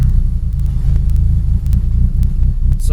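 An engine running an MSD ignition box bounces on the two-step rev limiter, a loud continuous low, choppy rumble with sharp intermittent pops, close by and alone.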